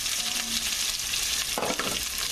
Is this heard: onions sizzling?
yes